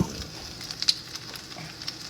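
Tomatoes sizzle and crackle in a pan with a soft, steady frying hiss and scattered pops, close and moderately loud, with no talking.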